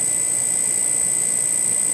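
A high-voltage, electrostatically powered magnetic levitation motor spins at about 3600 RPM, producing a steady, continuous high-pitched whine over a constant hiss.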